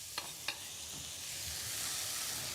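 Onions frying in a hot pan give a steady, broad sizzle that fills the whole clip, with two sharp utensil clicks or taps near the start and no talking.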